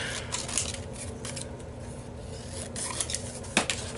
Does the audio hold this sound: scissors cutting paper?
yes